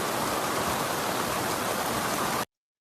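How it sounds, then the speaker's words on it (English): Heavy rain pelting down during a snapper fishing trip at Port Stephens, a dense, loud, continuous hiss of drops that cuts off abruptly into silence near the end. "That's quite a bit of rain, Jeffro."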